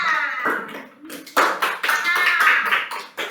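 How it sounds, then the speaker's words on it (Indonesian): A classroom of students clapping for a classmate, an uneven burst of close hand claps that dips briefly, then swells again into louder, fuller applause before tapering off. "tepuk tangan untuk Sabrina"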